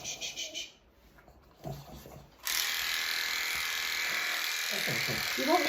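Electric clippers buzz steadily at close range while grooming a dog, the motor starting after a brief pause and running continuously, with soft voices and small handling noises around it.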